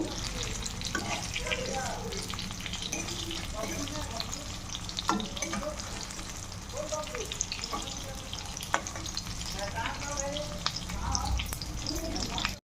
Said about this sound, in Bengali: এবার আরেকটু ভেজে তারপর নামিয়ে নেব